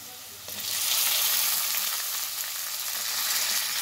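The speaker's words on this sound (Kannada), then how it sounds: "ಓಕೆ, ಈಗ ನಾನು ಮಶ್ರೂಮ್ ಆ್ಯಡ್ ಮಾಡ್ತಾಯಿದ್ದೀನಿ" Button mushrooms dropped into a hot frying pan, a steady close sizzle that swells sharply after the first half second and holds loud and even to the end, with no talking.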